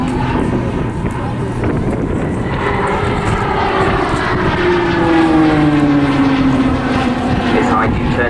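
Propeller aircraft performing aerobatics at the Southport Airshow, its engine droning loudly and continuously throughout with shifting pitch as it manoeuvres, wind buffeting the microphone and a commentator speaking over it.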